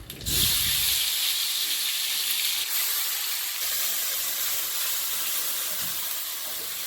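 Ginger paste and spices, including black cumin, onion, garlic and chili powder, hit hot oil in a pan with a sudden loud sizzle that settles into a steady, bright hiss, close and with no talk.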